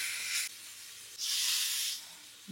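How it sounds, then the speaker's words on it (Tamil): Olive oil sprayed from a spray can during home cooking, two close hissing bursts, the second longer and louder, separated by quiet. "ஆலிவ் ஆயில் அடிக்கிறேன்."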